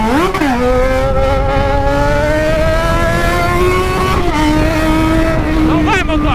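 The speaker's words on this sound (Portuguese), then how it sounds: "Essa minha moto aqui é zica, tio." A Yamaha XJ6 motorcycle engine is held at high revs close up, a loud, steady whine that rises sharply at the start and shifts pitch slightly partway through.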